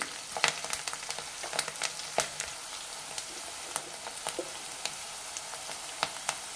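Chopped onions and green chillies fry in hot oil with a steady crackling sizzle, marked by sharp spitting pops scattered irregularly throughout, close and moderately loud.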